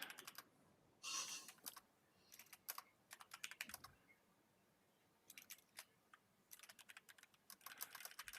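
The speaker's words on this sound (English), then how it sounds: "I need to type this text out so I can copy paste it instead of typing it out every time." Quiet typing on a computer keyboard, irregular bursts of rapid key clicks separated by short pauses, close and alone with no talk.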